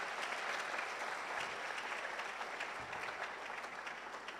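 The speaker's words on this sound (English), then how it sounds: "Can we clap for them for joining us?" An audience claps for visiting senior high school students at the KNUST Research Week 2023 conference, a dense, steady burst of many hands filling the hall from start to finish at moderate distance.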